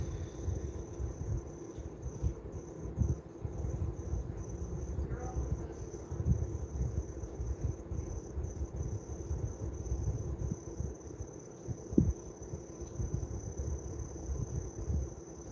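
Feeder crickets kept for leopard geckos chirp in a steady high, thin trill that runs throughout, with low rustling and handling noises beneath and a brief louder knock near the end.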